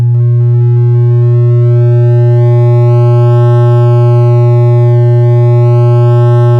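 A steady, loud synthesizer sine tone with digital distortion from an added oscillator, a strong low fundamental and stacked harmonics, slightly gritty and buzzing, holding unchanged throughout.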